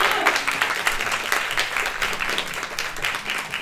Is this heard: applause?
yes